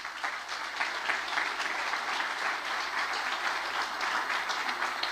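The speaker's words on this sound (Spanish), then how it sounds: "Den un aplauso al Señor." A church congregation applauds during a Spanish-language sermon on Rosh Hashanah, a steady, dense wash of many hands clapping throughout without pause, fairly loud and close.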